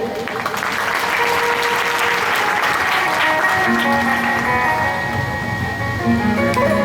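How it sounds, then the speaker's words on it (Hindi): An audience applauds loudly for the Brahmin community at a Shri Ram Katha devotional gathering, a dense, sustained wash of clapping that carries through to the end. "एक बार हमारे ब्राह्मण समाज के लिए जोरदार ताली बजाइए।"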